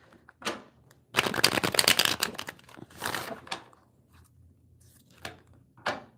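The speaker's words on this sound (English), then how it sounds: "I'm going to make sure I shuffle these cards right," A deck of tarot cards is shuffled close up in several crisp riffling bursts, the longest near the start followed by shorter flicks and taps separated by quiet gaps.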